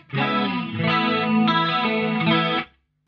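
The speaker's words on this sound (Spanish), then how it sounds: "son dos detuners trabajando en paralelo. A eso le sumamos el triestéreo chorus" Electric guitar through a rack rig with two detuners in parallel plus a tri-stereo chorus, five modulations in all; a single sustained chord with shimmering, thick chorus movement rings for about two and a half seconds, then cuts off.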